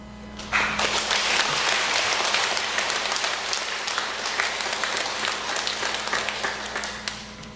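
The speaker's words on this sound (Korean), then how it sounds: "여러분 박수 칠 줄 알고 좀 쉬십니다" Church audience breaking into applause after a speaker's story, a dense sustained clapping that starts abruptly, stays loud and even for several seconds, then eases off slightly toward the end.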